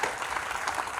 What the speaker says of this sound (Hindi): एक बार तालियां बजा करके माहौल दे दीजिए